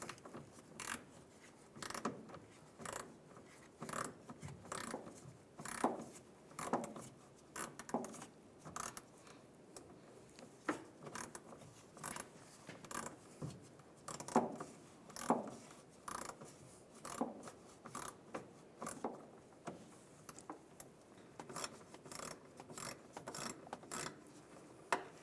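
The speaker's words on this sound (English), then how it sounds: "I'm going to use an 8mm socket, and right above the gas tank, there's a worm clamp. We're going to loosen that up." A ratchet with an 8mm socket clicks steadily while loosening a worm clamp on the fuel filler neck above the gas tank of a 2007-2013 Chevrolet Silverado 1500, quiet repeated strokes of rapid clicks.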